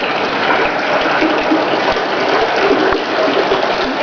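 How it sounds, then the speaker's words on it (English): Rainwater running off a house roof pours into an underground reservoir, a steady, close gushing splash of falling water that stays loud and unbroken throughout. "So what you see is rain coming off the roof of our house,"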